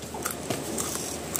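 Crispy, dry-fried fish skin is bitten and chewed at a Minang eatery, giving close, crackly crunches in a quick irregular rhythm with no talking.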